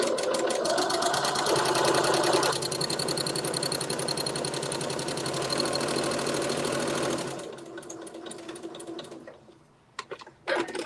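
A sewing machine stitches quilt-as-you-go blocks in a fast, even rattling run for several seconds, then slows and stops, leaving a few light clicks and handling sounds.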